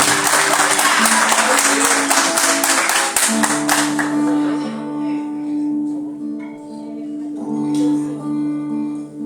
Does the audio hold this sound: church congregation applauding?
yes